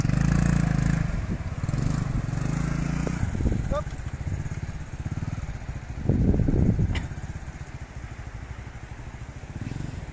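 Motorcycle engines rumble and rev loudly nearby in Pangasinan, Philippines, with surging bursts of throttle and mechanical clatter, while voices can be heard in the background.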